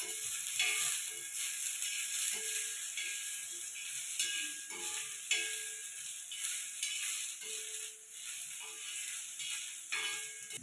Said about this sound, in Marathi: आणि हे लसूण पाकळ्या दहा बारा लसूण पाकळ्या आणि अद्रकचा तुकडा ते सगळं छान असं लाल कलरपर्यंत भाजून घेऊ